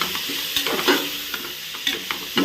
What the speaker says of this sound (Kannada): ಎಣ್ಣೆ ಬಿಟ್ಕೊಳ್ಳೋ ತನಕ ಚೆನ್ನಾಗಿ ಹಿಂಗೆ ಫ್ರೈ ಮಾಡ್ಕೊಳ್ಬೇಕು